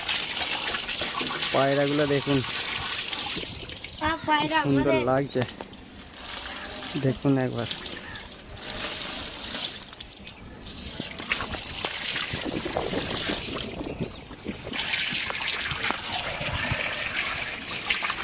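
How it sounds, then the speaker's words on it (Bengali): Water splashes and pours steadily as someone bathes on a village rooftop by a water tank, a continuous rushing wash under a voice speaking near the start and then fading. "একজন গোসল করতে আরম্ভ করে দিয়েছে"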